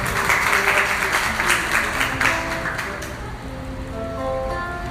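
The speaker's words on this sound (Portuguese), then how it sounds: "Vamos aplaudir a palavra de Deus." Church congregation at a Mass clapping together, a lively burst of applause that swells and then fades over a few seconds as organ-like sustained tones enter underneath.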